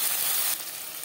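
Slit green chillies and a large tomato sizzling and frying in a little hot oil for a fish curry, a loud steady hiss that drops slightly partway through, with no talk.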